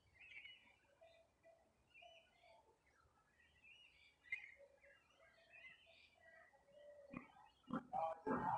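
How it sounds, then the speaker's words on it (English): Small birds chittering in trees outdoors, scattered faint chirps and short calls repeating through the scene, fairly distant, with a few louder rustling bumps near the end. "I hope you can hear that little chitter chatter of the birds."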